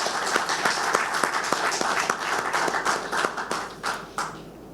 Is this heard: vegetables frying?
no